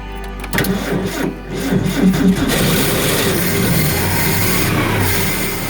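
A 1966 Ford Econoline van engine cranks with a rapid mechanical chatter, then fires and settles into a rough, steady running rumble.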